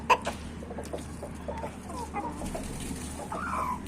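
Chickens cluck softly at close range in a series of short, uneven calls, with a few faint chirps mixed into a low background hum.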